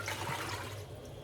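Salt and sugar water for pickle brine is poured into a container, making a short, soft rushing splash that fades within about a second.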